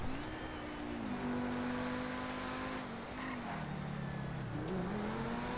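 Engine of a Progen T20 supercar in GTA holding a steady droning rev with pitch dips as it shifts, plus light tire noise, continuous and fairly loud throughout.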